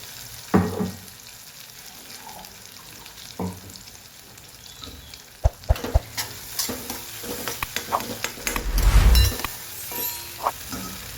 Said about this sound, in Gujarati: લસણ પણ સાથે સાથે એડ કરી દઈએ.